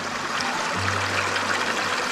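A clear freshwater stream in Soon Valley, Khushab, Punjab, Pakistan, rushes with a continuous, dense hiss of flowing water, steady and fairly loud, with a low hum briefly underneath.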